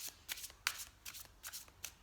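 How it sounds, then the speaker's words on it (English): Tarot cards shuffled in quick riffling bursts, about seven crisp papery flutters in two seconds, close and fairly quiet with no voices. "A little bit more shuffle, just one more go"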